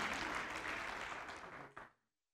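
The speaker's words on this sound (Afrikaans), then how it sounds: "Julle kan hande klap as julle wil." A church congregation claps along in a steady, fairly quiet burst of hand clapping that cuts off abruptly near the end into silence.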